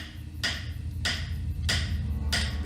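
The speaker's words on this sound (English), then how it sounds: "I'm sure Thor's big hammer here could straighten a few things out." A heavy hammer strikes a broken cog in the video game Tesla Effect, four evenly spaced metallic clanks over a steady low background hum, with no talk.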